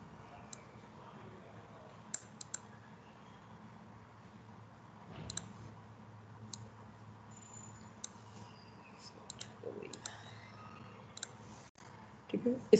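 A computer mouse clicks while someone works on materials and an Earth animation, giving sparse, sharp clicks, some in quick pairs, over a quiet room hum.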